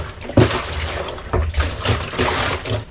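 Water splashes and slops across a floor that has not been cleaned since construction, as dirt is washed away beside a broom made from coconut-leaf midribs. The broad wet splatter comes in several close, loud bursts.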